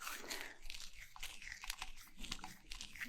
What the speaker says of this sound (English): scrunching up the measuring tape measure, whatever